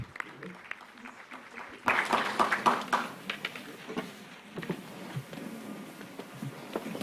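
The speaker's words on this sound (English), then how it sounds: "Please, a round of applause." Applause from the audience at a regional urban and housing finance forum breaks out midway, a fairly close burst of clapping that fades into scattered claps under a speaking voice.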